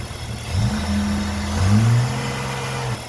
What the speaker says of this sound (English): It's important to check that while the car's running for the first time.